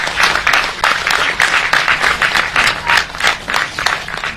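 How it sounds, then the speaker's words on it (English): A film festival audience gives Giri Naik a round of applause, with loud, close clapping that swells and dips in uneven pulses throughout. "can we have a round of applause for Giri, please?"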